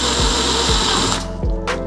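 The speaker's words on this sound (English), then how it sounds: "they just drilled a hole through the housing right here" Drill boring a hole through a headlight housing on an MR2 Spyder during a projector retrofit, a loud continuous whine with a few low thumps as the bit bites, then slowing down.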